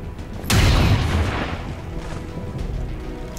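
A sniper rifle shot in the video game XCOM 2 cracks out as a single loud, booming report with a long rumbling tail, with no talk over it.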